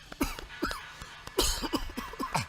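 Someone coughs repeatedly in short, hoarse bursts, close by, in a rough irregular rhythm.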